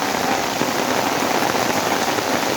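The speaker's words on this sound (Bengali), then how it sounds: "প্রচণ্ড লেভেলে বৃষ্টি" Torrential rain falls in an even, roaring hiss, close and loud with no other sounds, just the constant wash of water beside a pond.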